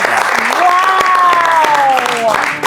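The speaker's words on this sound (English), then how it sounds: "So please give yourselves a big round of applause." Applause from an audience at a fundraising event, a steady clatter of claps lasting about three seconds, with a voice calling out loudly above it.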